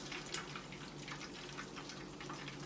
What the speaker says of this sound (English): Let the grease drain off it.